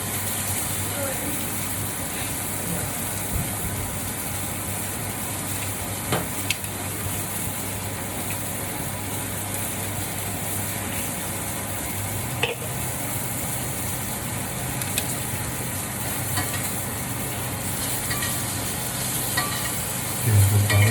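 Butter frying in a pan, turning red-brown, gives a steady broadband sizzle that runs throughout with a few faint clicks and stirs. A low hum sits underneath.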